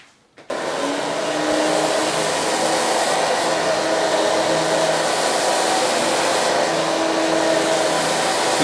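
A hair dryer switches on and runs with a steady loud whooshing roar while blow drying long hair, holding constant and close with no voices.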